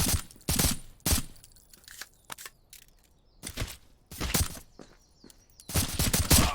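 Bursts of gunfire in the VR shooter Pavlov, several separate loud volleys of rapid shots with short quiet gaps between them, no talk.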